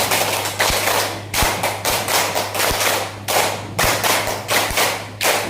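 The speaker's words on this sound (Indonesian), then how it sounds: "Tepuk lima 3 kali." A group claps in a rhythmic pattern at a school session on positive culture, sharp close claps coming in repeated short bursts of five, three rounds in a row with brief gaps, over a steady low hum.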